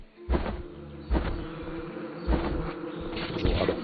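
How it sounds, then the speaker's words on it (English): Bees buzz in the video game Dandara, a steady insect drone with pulsing game sounds, low thumps and periodic swells, no voices. "There's a lot of bees"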